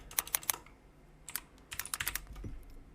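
Typing on a computer keyboard: a quick burst of three keystrokes, a pause, then a faster run of close, crisp key clicks ending in a heavier tap.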